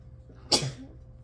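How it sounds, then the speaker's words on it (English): One sharp sneeze bursts out in quiet surroundings, a quick breathy blast that fades into a soft exhale. "I think I have to sneeze."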